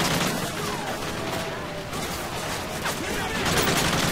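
Continuous gunfire from Call of Duty: Modern Warfare 3, with dense bursts of automatic fire and shots blending into a steady, loud battle din that lasts throughout.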